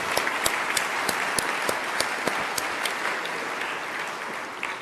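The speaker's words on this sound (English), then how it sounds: "Can we just give all of you just a huge round of applause for everything that you guys are doing?" A room of attendees at an education awards breakfast gives a steady round of applause, dense and even throughout with a few sharper nearby claps standing out.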